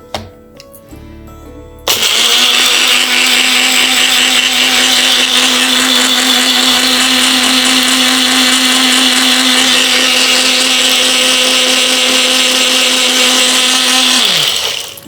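A mixer grinder starts up after a brief quiet moment and runs loud and steady for about thirteen seconds, whirring as it blends curd with water into buttermilk, then winds down at the end.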